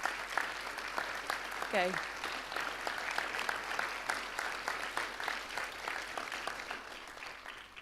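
A meeting audience at a citizen information session claps for standing staff members; steady, moderately distant applause runs throughout, with a short spoken interjection near the start.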